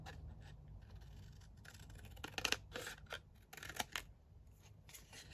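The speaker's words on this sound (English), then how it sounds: "I might have to just cut this down slightly" Scissors trimming a thick paper folio, faint close snips and crisp paper rustles in short clusters over a quiet low hum, without speech.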